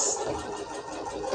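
A sewing machine runs continuously as it stitches around the edges of a pillow's leaf appliqué, a steady mid-pitched mechanical whir with no talking.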